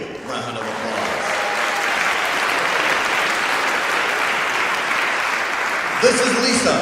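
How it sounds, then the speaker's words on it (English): An audience at a live stage show applauds a volunteer called up from the crowd, a dense, steady roar of clapping that holds for several seconds, with brief voices at the start and end. "let's give her a big round of applause"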